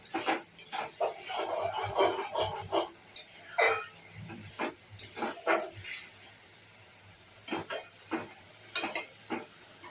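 Spices being stirred and fried in a pan for a pomfret fish curry, with a spoon scraping and rubbing in quiet, irregular strokes over a faint sizzle, close by and without speech.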